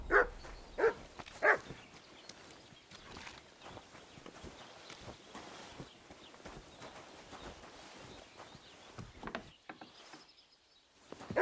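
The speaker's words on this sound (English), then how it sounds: "Why are you barking?" In Kingdom Come: Deliverance II, a dog barks near a blacksmith's forge: three quick barks at the start, then quieter scattered footsteps and clatter, with a few more faint barks near the end.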